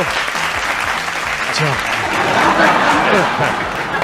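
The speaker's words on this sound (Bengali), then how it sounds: "একটা জোরে হাততালির সাথে তাকে ওয়েলকাম করা হোক" Loud, sustained applause from a comedy show audience welcoming a performer onto the stage, steady throughout with voices mixed in.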